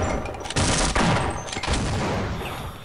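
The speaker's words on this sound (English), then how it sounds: "Shotgun time." Shotgun blasts in the game Half-Life: Uplink, a few heavy booming shots spaced about half a second apart, loud and close, followed by a fading reverberant tail.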